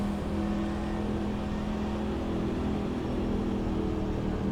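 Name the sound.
NASCAR truck engine in iRacing video game at Chicagoland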